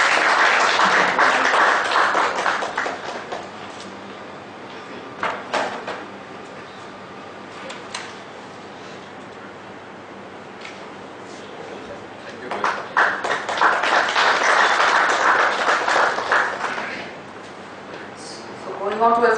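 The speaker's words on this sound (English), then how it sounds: "Please give a big round of applause for today's speaker." An audience at a professional talk breaks into loud clapping for a speaker, which dies down to a quieter stretch with some knocks and voices before a second burst of applause.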